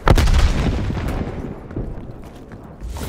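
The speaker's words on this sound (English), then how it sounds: "Sending frag grenade." A frag grenade explodes in Call of Duty: Black Ops Cold War, a loud booming blast up front followed by a rumbling tail and scattered distant gunfire.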